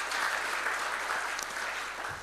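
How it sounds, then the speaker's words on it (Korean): A church congregation applauds steadily at a new year's early-morning prayer service, blessing the children present. The clapping is dense and even, filling the room for the whole stretch. "오늘도 박수로 크게 한번 축복해 줍시다."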